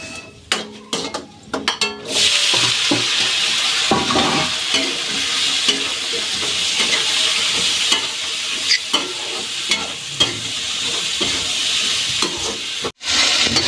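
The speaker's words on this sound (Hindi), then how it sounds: "अब मैं सब्जी छौंक देती हूँ।" Vegetable curry being tempered in a hot pan in a village kitchen, with a loud continuous sizzle of frying oil after a few clanks at the start and intermittent scraping and clinks of stirring throughout.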